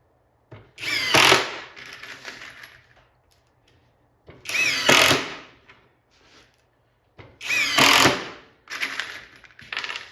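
A Skil power drill whirs in three separate bursts, each rising and slowing as a screw is driven into a shop countertop, with pauses between.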